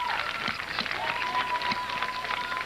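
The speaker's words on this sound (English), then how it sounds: "He gets a nice round of applause." A large crowd applauds at a high school football game, a dense, steady wash of clapping heard from a distance, with a faint voice and a thin tone running beneath.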